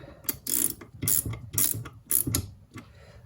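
A bolt with thread lock is nipped up by hand during a gearbox build, giving about six quick ratcheting clicks, each a short bright burst in a steady rhythm, close up with no talk.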